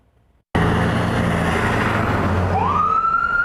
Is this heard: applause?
no